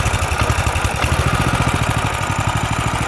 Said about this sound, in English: You can hear it's got a little hesitation in the carburetor.